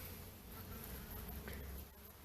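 Honey bees buzzing in a dense, steady drone during a hive removal on a farm, a loud continuous hum filling the whole moment with no voices.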